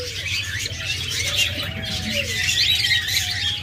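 A pair of green opaline lovebirds in a cage give sharp chirps and squawks over a steady hum of background noise.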